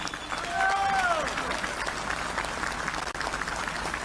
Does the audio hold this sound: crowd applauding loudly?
yes